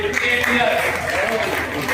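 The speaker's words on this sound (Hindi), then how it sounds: "ताली बजाएंगे" Applause from an indoor gathering greets a senior member at a group birthday celebration, a dense burst of clapping heard under people talking.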